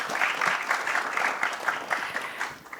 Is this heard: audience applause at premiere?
yes